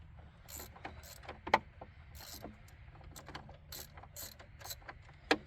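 A ratchet wrench clicks in quick bursts while loosening a tight long bolt on a 2006 Jeep Liberty, with a few sharp metallic knocks between the clicks, close and fairly quiet.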